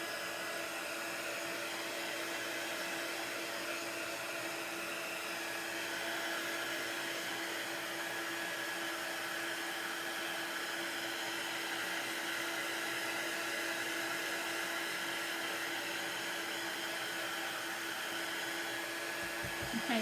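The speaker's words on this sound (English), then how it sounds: "You can also use your hair dryer." A hair dryer blows steadily throughout, a continuous airy whir with a faint high whine, close by and unchanging.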